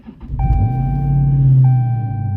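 A Dodge Challenger Scat Pack wide-body's engine idles with a steady low rumble close by, its battery weak, accompanied by a constant high electronic warning tone.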